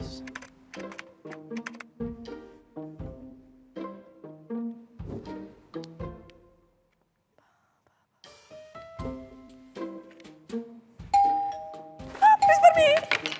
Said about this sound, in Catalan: Qui toca el timbre?